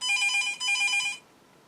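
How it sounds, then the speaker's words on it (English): A telephone rings indoors with a bright, electronic double-burst tone that breaks off briefly and then stops, loud and close, with no talking over it. "Please, someone answer the phone"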